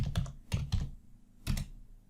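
Password being typed on a computer keyboard while setting up a Cisco Nexus 9k virtual switch: three short bursts of quick, close key clicks separated by brief pauses.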